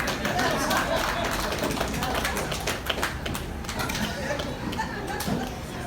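An audience claps and cheers through a comedy bit, with dense, steady applause mixed with crowd noise and voices throughout.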